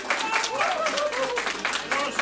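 A studio audience at a 2009 comedy TV show gives a small, steady round of applause throughout, with a voice talking over it.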